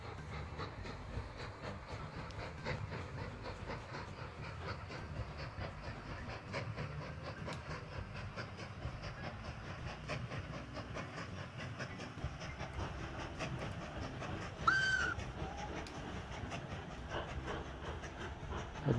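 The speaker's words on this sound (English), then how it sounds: "Hello, this is the iron ingot train." Trains rolling on rails through an industrial area in the video game Mashinky, a steady rumbling clatter that runs the whole time with a brief hiss near the end, and no talk.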